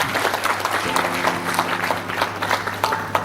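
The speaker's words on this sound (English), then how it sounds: "Let's give him a big round of applause." An audience at a land governance event applauds the arriving Minister of Lands, Housing and Urban Development with steady, dense clapping, mixed with a low sustained hum and background crowd noise throughout.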